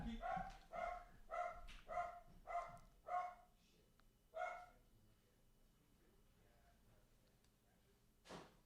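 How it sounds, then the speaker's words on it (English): A guard dog gives a run of about seven sharp barks at a steady rhythm and then goes quiet, ending with one short noise near the end. The barking sounds fairly close. "The dog's attacking."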